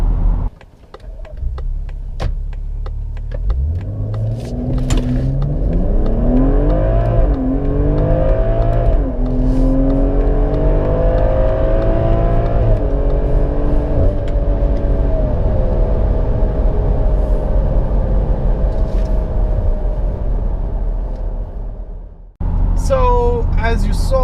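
A 2017 BMW X4 M40i accelerates hard to 100 km/h, its engine climbing loudly in rising sweeps through several gear changes, heard from inside the cabin, then settling to a steady roar before cutting off sharply near the end.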